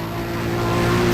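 Steady, loud drone of a Nissan GT-R R35 SpecV engine in NFS World, a continuous tonal roar held close without breaks.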